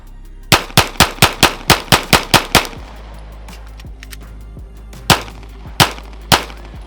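Six rapid Glock pistol shots crack loudly in close succession on a shot timer, followed by a pause and then a few more spaced, sharp reports, all near and echoing slightly.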